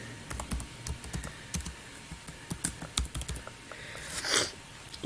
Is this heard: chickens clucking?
no